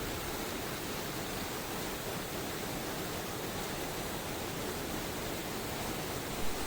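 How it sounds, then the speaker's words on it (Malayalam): A waterfall spills over rocks and flows on through a rubber plantation near a temple, making a steady, dense rushing roar that holds evenly throughout with no voices. "പാറക്കല്ലുകളെ തട്ടിച്ചതൊരു വെള്ളച്ചാട്ടമായി മാറുകയും ആ വെള്ളം ഒഴുകിപ്പോകുന്നത് റബ്ബറിൻ തോട്ടത്തിന് നടക്കൂടിയായതുകൊണ്ട് അതിമനോഹരമാണ്"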